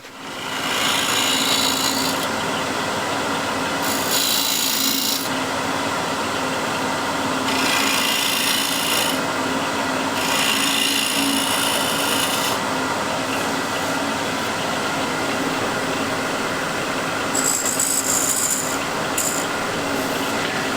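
Rasping and sanding on the foot of a wooden box, a continuous loud scraping with rhythmic strokes that come and go in bursts over about twenty seconds.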